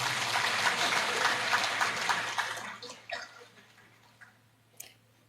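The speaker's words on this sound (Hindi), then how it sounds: "ताली बजा सकते।" Audience hands clapping at a SpArC gathering in Surat, a dense steady patter of applause that fades out over a few seconds, leaving a couple of faint isolated claps.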